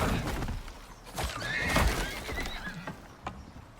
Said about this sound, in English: Oh, horse is kicking the crap out of me.